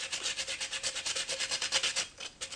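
Sandpaper roughening the surface of a metal spray can before bonding it to a PVC fitting, a steady, rapid back-and-forth rasping scrub, close and fairly loud, with no talking.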